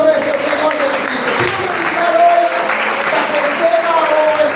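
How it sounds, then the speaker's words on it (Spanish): A church congregation claps loudly and continuously for several seconds, a dense even applause with some voices mixed in. "dando un fuerte aplauso a nuestro Señor Jesucristo"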